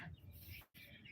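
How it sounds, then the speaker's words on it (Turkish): Chickens and growing chicks clucking softly on a farm, quiet and somewhat distant calls in a brief stretch with a short break. "Ve tavukları da gösteriyorum sizlere arkadaşlar."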